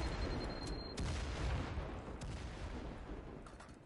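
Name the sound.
grenade explosions in the video game Firewall Zero Hour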